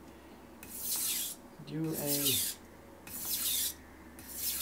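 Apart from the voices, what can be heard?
knife being sharpened on Shapton Pro whetstone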